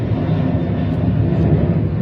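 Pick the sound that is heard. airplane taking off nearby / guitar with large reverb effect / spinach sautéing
airplane taking off nearby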